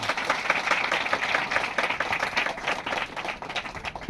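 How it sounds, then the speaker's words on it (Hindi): Church audience clapping for the Lord during a service in Kunmuru Church, a brisk, continuous patter of many hands, fairly loud and close, with a slight rhythmic pulse throughout. "जोर से प्रभु के लिए मैं ताली बजाऊं"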